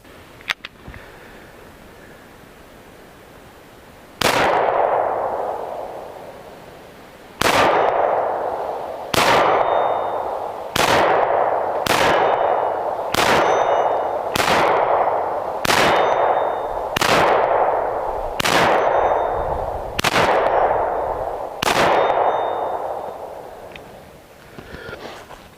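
Eleven loud, sharp pistol shots from a Ruger P95 9mm, fired one at a time with irregular gaps of about one to three seconds, each followed by a brief ringing decay.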